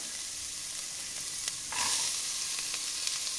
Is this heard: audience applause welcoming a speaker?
no